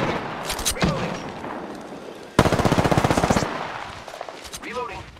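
Automatic gunfire in the Apex Legends video game: a sharp onset into a rapid, even burst of shots lasting about a second, with scattered sounds and faint chatter before and after.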